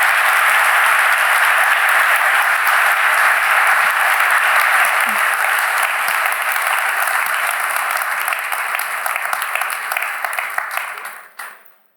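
Audience at an official opening event giving a long round of applause for the Crown Prince, sustained dense clapping that carries on steadily before thinning and stopping at the end.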